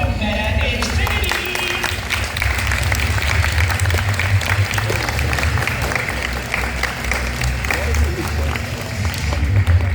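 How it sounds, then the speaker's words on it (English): Audience applause at a robotics qualifier awards ceremony in Windsor rolls on steadily for the whole stretch, dense and loud over a low crowd rumble, with voices and cheers mixed into the noise. "And let's keep the applause going for"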